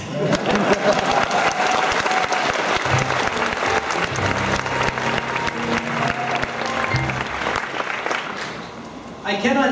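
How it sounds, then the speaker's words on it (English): Audience at a convention story hour applauding in a steady, full wash of clapping that runs for nearly ten seconds, with a voice talking over it and a few low musical tones underneath before it cuts off. "You can applaud now."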